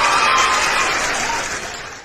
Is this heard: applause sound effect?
yes